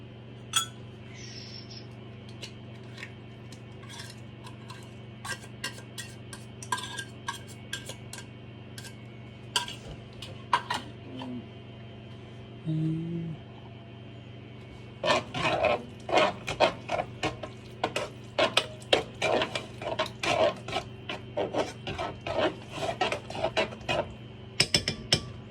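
Tuna in cream of mushroom heats in a pot while a utensil stirs it, giving irregular metallic clinks and taps against the pot that grow denser and louder in the second half, over a faint steady hum.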